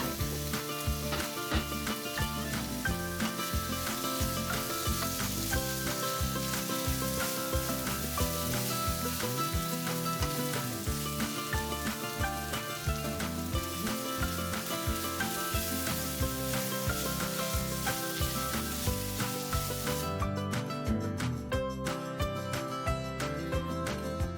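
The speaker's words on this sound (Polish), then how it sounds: "Będę to smażyć przez około 2 minuty, ciągle mieszając." Steady, loud sizzling of a vegan Caribbean dish frying in a pan, with a continuous crackle and occasional scraping as it is stirred, no talking.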